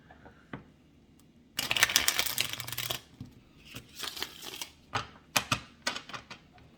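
Tarot cards riffle and snap in several quick bursts, one long shuffle followed by shorter clattering bursts, close and fairly quiet.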